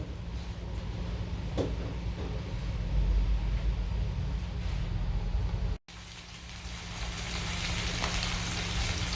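Oil poured onto melted sugar in a cooking pan and stirred while making chicken, giving a steady, close sizzle that holds throughout with one brief drop-out midway.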